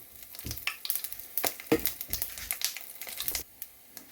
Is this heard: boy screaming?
no